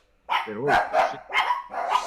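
Puppies give a few close, high-pitched barks and yips in quick succession, loud and slightly whiny.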